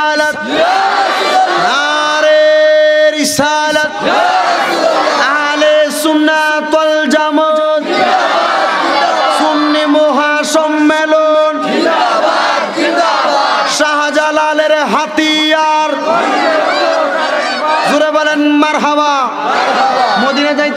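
A crowd at a religious gathering chants the takbir in loud, repeated call-and-response shouts answering a lead voice, with sustained massed voices throughout.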